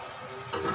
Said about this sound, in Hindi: और चिकन को करेंगे दम पर फ्राई